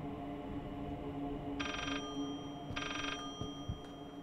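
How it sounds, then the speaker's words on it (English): In the horror video game Layers of Fear, a telephone rings in two distinct bursts of bright, trilling bells over a low, steady ambient hum, with faint knocks near the end. "Where's the phone noise coming from?"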